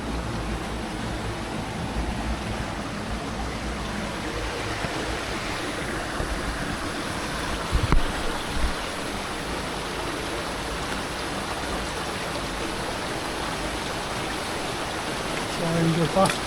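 A river flows near the ruins of a mine, a steady broad rush of water that stays constant throughout, with faint scattered bumps nearby.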